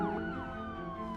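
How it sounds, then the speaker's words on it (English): A police transport car arrives with its siren wailing, a clear rising and falling electronic tone sweeping steadily over a low background rumble. "That siren means the transport car has finally arrived."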